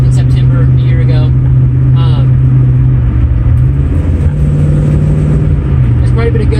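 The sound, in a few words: 1963 Ford Falcon car engine with loud exhaust driving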